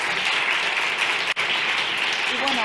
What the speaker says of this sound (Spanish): Un aplauso también para Luis por el trabajazo.